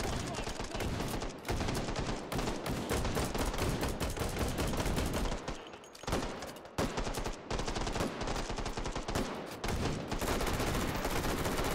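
Sustained automatic gunfire in the VR shooter Hot Dogs, Horseshoes & Hand Grenades, dense rapid bursts laying down suppressing fire, loud and close with a brief lull midway, with talking underneath.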